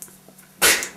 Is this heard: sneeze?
yes